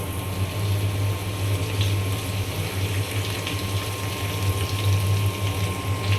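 Leafy greens hit hot oil with chopped garlic, onion and green chili, giving a loud, steady, close hiss of frying over a low constant hum, with no pauses.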